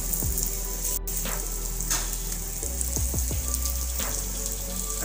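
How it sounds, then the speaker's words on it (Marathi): Brinjal slices coated in tandoori masala fry in a pan, giving a steady, loud, close sizzle with a few soft clinks and scrapes of the utensil against the pan. "अशा प्रकारेच खरपूस अगदी सर्व वांग्याचे काप आपल्याला फ्राय करून घ्यायचे आहे."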